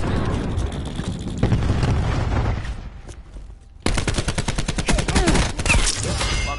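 Call of Duty Black Ops 4 battle with a cluster grenade: loud, dense gunfire and rumbling blasts, easing briefly midway before a fresh burst of rapid shots and explosions.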